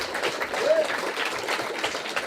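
Studio audience applauding an answer on a French talk show, brisk steady clapping from many hands with a voice briefly cutting through underneath.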